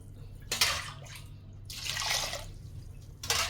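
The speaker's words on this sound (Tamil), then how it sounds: "அதே டம்ளர்லேருந்து நம்ம அளந்து ஊற்றிக்க போகிறோம் தண்ணியை" Water is poured from a tumbler into a pot to cook rice for sambar rice, giving a few bursts of splashing pour separated by short pauses, close by and moderately loud with no talk.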